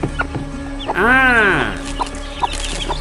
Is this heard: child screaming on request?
no